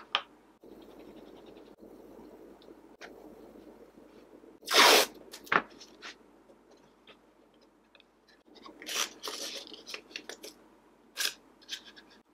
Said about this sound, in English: So I've just put some tape around that to act as a clamp.